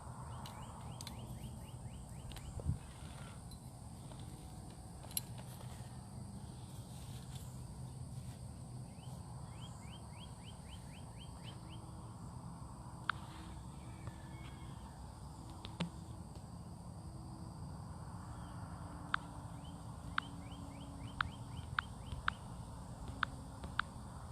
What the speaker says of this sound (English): I want everybody to hear these birds.